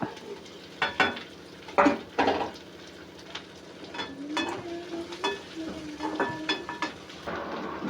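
Green chillies and onions frying in hot oil in a pan give a soft sizzle under several sharp clatters and scrapes of a spoon against the pan.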